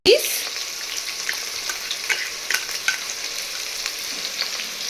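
Chopped onion and green chilies hit a hot pan for mutton biryani, a sharp utensil clink followed by a busy, close sizzle with scattered stirring scrapes throughout.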